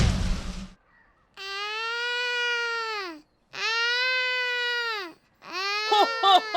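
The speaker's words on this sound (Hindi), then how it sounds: "मुझे किसी के रोने की आवाज सुनाई दे रही है" A young girl cries in three long wailing sobs, each rising and then falling off, with short gaps of silence between them and a brief rustle at the start.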